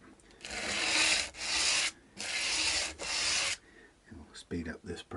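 A wooden guitar part is sanded by hand down to a marked line during a refret and bridge change on a Vintage V100, four long rasping strokes up close followed by shorter scratchy rubs.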